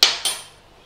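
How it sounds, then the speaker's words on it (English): A spoon stirs milk powder into milk to dissolve it, giving two sharp metallic clinks against the container a quarter second apart, close and bright, each fading quickly into quiet. "we want to dissolve that powder in that milk"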